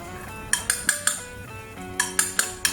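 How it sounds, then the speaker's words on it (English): Chopsticks scrape and clink against a metal pan while rolling up an omelette egg for Japanese omurice, a sharp series of close, bright taps and knocks in two clusters, with no voice. "Use the chopstick to roll up the egg."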